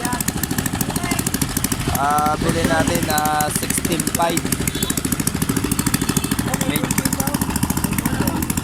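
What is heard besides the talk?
newly bought boat engine running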